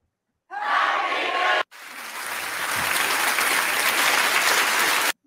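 Studio audience or listeners burst into sustained applause and clapping, loud and dense, with a brief cut before the clapping resumes and continues steadily to the end.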